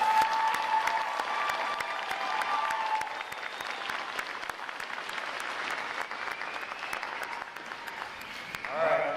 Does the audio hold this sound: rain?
no